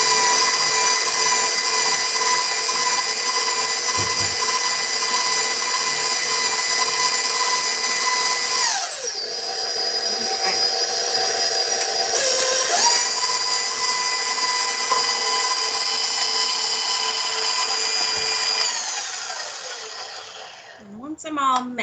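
Electric mixer whirring through chocolate chip cookie dough, a steady loud motor drone that dips in pitch twice as it works, running nearly the full length before slowing and stopping.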